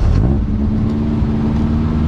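A Bugatti engine catches and settles into a loud, rumbling idle nearby, a dense steady growl with a brief surge at the start and no one speaking.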